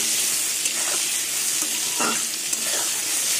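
Eggplant pieces fry in oil with turmeric, making a steady close sizzle with intermittent spatula stirs and a few soft clinks against the pan.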